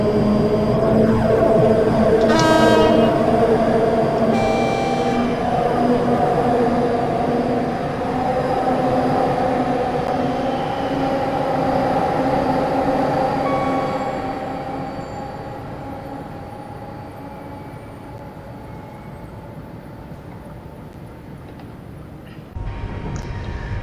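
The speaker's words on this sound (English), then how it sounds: "It's got some incredible traction motor sounds in Train Simulator Classic." A steady electric train hum from the Avanti West Coast Pendolino in Train Simulator Classic, with rising and falling traction motor whine, tonal bands shifting in pitch as it runs, loud and continuous, fading slightly toward the end.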